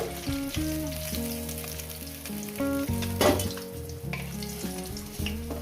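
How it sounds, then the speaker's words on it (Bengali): Oil sizzles steadily around small rohu fish in a pan, a close, bright crackle with a brief louder burst midway, accompanied by soft background music. "বাদ বাকি মাছগুলো দিয়ে দেবো মাছগুলো আমি দিয়ে দিচ্ছি"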